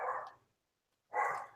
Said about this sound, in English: I apologize if you hear barking in the background.